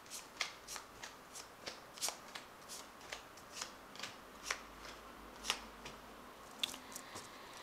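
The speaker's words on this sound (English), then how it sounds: "I'll just cut these cards." Tarot cards being shuffled and cut by hand, a steady run of soft, crisp riffles and flicks close up and fairly quiet, with no talking.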